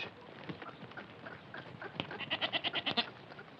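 Sheep in Afghanistan bleat quietly at a distance, first scattered calls and then a quick rhythmic series of short bleats near the end.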